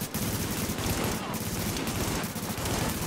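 Gunfire in The Division, a cooperative shooter game: sustained rapid shots, loud and continuous across the whole stretch, with voices faintly underneath.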